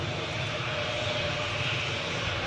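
A Jet2 Holidays airliner at Newcastle airport gives a steady, loud jet engine roar and whine that holds even throughout, with no voices.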